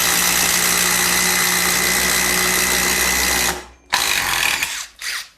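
A Kyocera cordless impact driver drives loudly and continuously, its motor and hammering rattle holding steady, then it cuts off and gives two shorter follow-up bursts close by.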